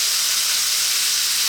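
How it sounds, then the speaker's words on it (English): Onion tossed into pork already sizzling in a hot pan for pork fried rice: a loud, continuous frying hiss runs through the brief moment with no voice over it. "We're now going to add in our onion,"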